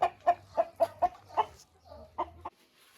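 Chickens and roosters clucking in a yard on grass, a run of about eight short, sharp clucks in quick succession, close and fairly loud, then a pause and two more.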